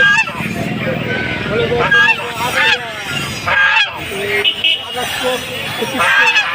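Ducks honk and quack loudly and repeatedly amid a busy crowd at Mahadevpur market in Naogaon, Bangladesh, with people talking and bargaining close by.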